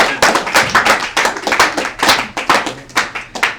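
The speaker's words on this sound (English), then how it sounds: "Let's give her a round of applause." A small live audience at a Stone Soup poetry and music feature night claps together, a steady patter of close hand claps filling the room for several seconds with no talking over it.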